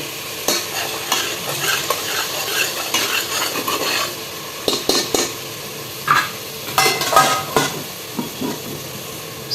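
Vegetables and spices fry in oil for a vegetable pulao while a metal spoon stirs and scrapes the pan, giving a steady hiss broken by clattering knocks and scrapes, close and fairly loud.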